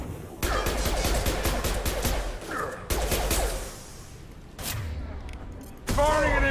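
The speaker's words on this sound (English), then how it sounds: "Firing an impact shot!" Impact shot gunfire in Mass Effect 2, a dense run of heavy overlapping shots and thuds in repeated bursts with brief pauses, game voices cutting in near the end.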